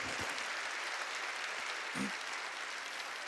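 A church congregation at a Wednesday worship service applauds in a soft, continuous wash of many hands, faint and somewhat distant, with a brief low thump partway through.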